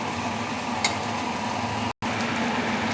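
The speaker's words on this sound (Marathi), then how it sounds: "आता मी खोबरं टाकलं, खोबरं परतून घेते चांगलं।" Grated coconut roasting in a pan for a spicy Malvani-style stuffed potato and brinjal dish, giving a steady soft sizzle throughout with one brief break, close and continuous.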